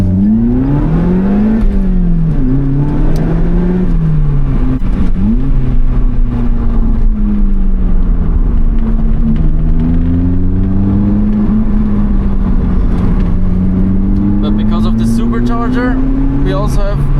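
A Lotus Elise Cup 250 on a twisty mountain touge road drones loudly from inside, its engine pitch rising and falling through gear changes and mid-range pulls, while a driver talks over it.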